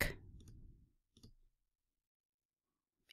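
Faint computer mouse clicks on a link, a couple of short, quiet taps after a brief noise at the start, then near silence.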